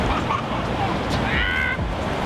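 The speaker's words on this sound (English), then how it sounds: "we're currently just like back with this amazing river. Creek." A creek rushes through Boulder, Colorado, as a steady broadband wash of flowing water mixed with outdoor wind noise. It holds at a constant level for the whole moment, with faint murmurs in the background.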